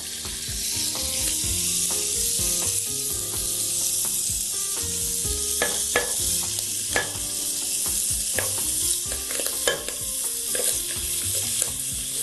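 Lamb pieces sizzle steadily in a hot pot while a chorba is being made. A constant loud hiss of frying fills the air, with occasional clinks and stirring scrapes near at hand and no talking.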